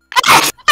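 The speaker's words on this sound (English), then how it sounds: "I have a very loud sneeze." A single loud, sharp sneeze bursts out close by, with a short second burst right after it.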